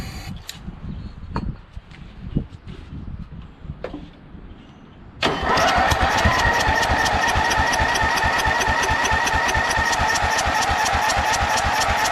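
A 12 HP Briggs & Stratton flathead engine on a Craftsman LT1000 lawn tractor, choke held closed, cranks with a few scattered clicks and thumps, then catches around five seconds and runs loud and steady, close by, with rapid even firing pulses.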